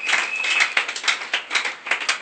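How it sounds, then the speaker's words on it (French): An audience applauds at a French- and Lingala-language talk, a lively crowd of hand claps with uneven rhythm, the last clip of the set, heard alone without voices. "Acclamons très fort pour ceci."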